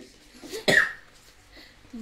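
A single short cough bursts out sharply at close range amid quiet background talk during a card game.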